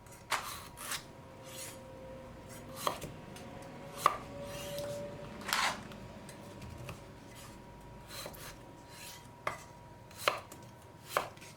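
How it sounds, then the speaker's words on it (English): Potatoes chopped with a knife on a board in a home kitchen: a dozen or so sharp, close knocks at an irregular pace over a quiet background, with no talking. "And chop two pieces of potato."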